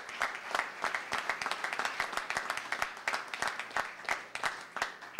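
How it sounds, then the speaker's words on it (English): An audience at a Baton Rouge jobs announcement claps for about five seconds, a dense run of overlapping handclaps that swells and dips unevenly, with no voices over it. "Let's give Brian and his team another great round of applause."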